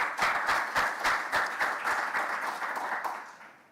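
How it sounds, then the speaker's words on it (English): Audience applause at a men's symposium in KwaZulu-Natal, a dense burst of clapping with distinct sharp hand claps near the front, steady for about three seconds before fading away. "Let's give her and the team a round of applause"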